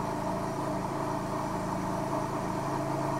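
A car engine idles steadily on a cold start, a continuous close, even hum with a slightly raised rev and no other sounds over it.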